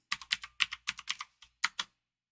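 Password being typed on a computer keyboard at a login prompt: about a dozen crisp, close key clicks in a quick uneven rhythm, then a brief stop.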